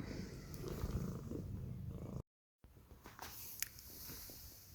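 A domestic cat purrs close by in a soft, steady rumble, interrupted by a brief gap of silence before the purring resumes with faint rustling and light movement.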